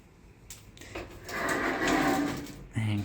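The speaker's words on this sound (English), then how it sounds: "Doors are very loud." A loud closet door in a downtown apartment sliding open or shut, a scraping rumble building over about two seconds and ending in a thud, with a voice speaking around it.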